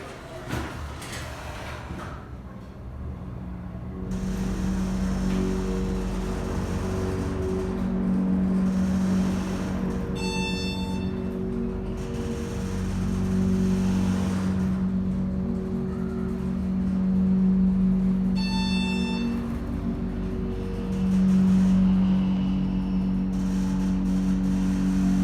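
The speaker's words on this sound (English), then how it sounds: "let's listen to this motor again." A large Montgomery KONE hydraulic elevator motor at an IKEA store runs with a steady, loud low hum and whir that holds for the whole stretch, with two brief high chimes or beeps partway through.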